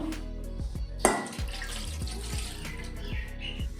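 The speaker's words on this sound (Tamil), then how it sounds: "2 டம்ளர் பால் ஊற்றிக்கோங்க." Milk poured into a cooking pot for a sweet milk-and-honey kozhukattai, a steady liquid pour with splashing and a sharp knock near the start, with no talk.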